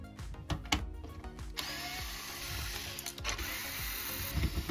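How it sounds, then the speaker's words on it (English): A power screwdriver whirs in short bursts and then a longer steady run, close up, while removing screws from the tweeters of a JBL PartyBox Club 120 speaker during a teardown. "Now to remove the tweeters, we will remove 2 screws."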